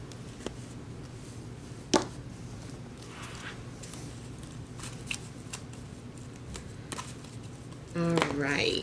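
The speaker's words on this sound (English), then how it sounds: "Let's pull some energy cards for you" Oracle energy cards are shuffled and pulled, with soft papery riffles and a few sharp card snaps scattered over several seconds, quiet and close, with a person speaking briefly near the end.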